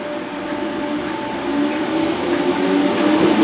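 A Merseyrail Northern Line train gives a steady, continuous rumble with a faint tonal hum, swelling slightly louder toward the end, with no voices.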